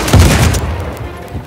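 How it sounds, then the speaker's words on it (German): A loud burst of gunfire in Uncharted 4: A Thief's End booms up close at the start, then fades into a rumbling tail with faint scattered clicks. "Da hat doch einer gerade hier geschossen auf mich."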